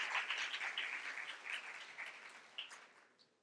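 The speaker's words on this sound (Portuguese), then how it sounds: "Uma salva de palmas." Conference audience at a regulatory affairs event applauds softly, a fairly distant, even patter of hands that gradually thins and fades toward the end.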